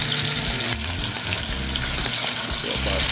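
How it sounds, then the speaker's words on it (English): Eight scallops searing in a hot pan, a steady close sizzle and crackle of frying that runs without a break and with no voices over it. "We'll do 8 of these scallops. Get those nice and seared, right?"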